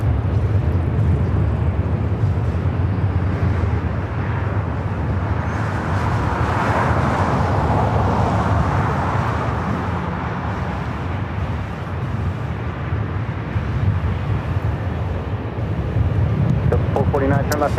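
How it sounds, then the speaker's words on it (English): A Delta Airlines Boeing 737-900ER takes off at Los Angeles International Airport, a broad, steady engine roar that swells in the middle and fades slightly before rising again, with a voice talking over it. "Delta Airlines 449 taking off to Nashville on the 737-900ER"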